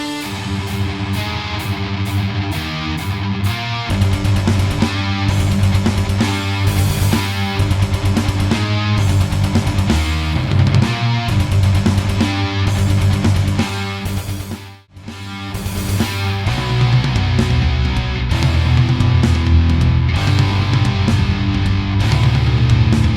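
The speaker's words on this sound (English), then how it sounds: "I'm gonna just show you the rhythm guitar, what it's doing during the solo." Heavily distorted metal rhythm guitar plays the part under the solo in a song, with dense chugging chords and fast palm-muted riffs, loud and continuous with one brief dip near the middle.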